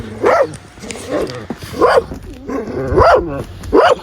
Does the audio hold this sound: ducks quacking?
no